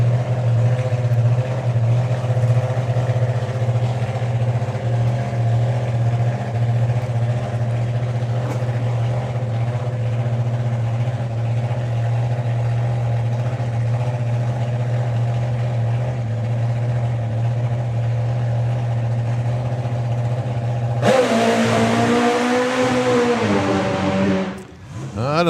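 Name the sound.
drag racing machine engine running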